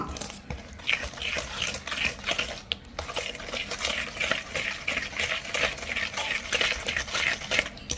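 Stirring cake batter of semolina, sugar and flour in a bowl, with continuous scraping and mixing sounds at close range and an occasional clink of the utensil, with no talk.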